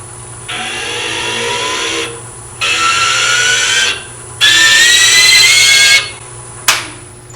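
A chatter tool fitted with a carving burr cutting a decorative pattern on a lathe, three loud sustained whining buzzes of rising pitch separated by short pauses, over a steady low motor hum, then a brief final burst.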